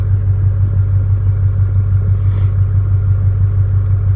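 A KamAZ truck's diesel engine idles loudly and close, a steady deep rhythmic throb that holds constant with no talk over it.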